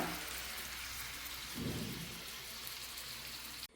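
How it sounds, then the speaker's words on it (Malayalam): Heavy rain pours steadily in a dense, continuous hiss, with a brief low rumble partway through. "മഴയാണെ ഭയങ്കര മഴ താണ്ഡവമാടുക എന്ന് തന്നെ പറയാം"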